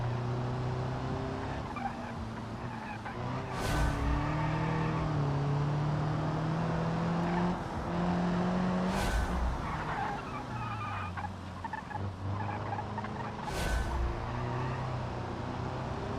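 A race car driven hard through a fast lap in the BeamNG driving game, engine pitch climbing and dropping through gear changes, with sharp tire skids and squeals at several corners, loud and continuous with no talking.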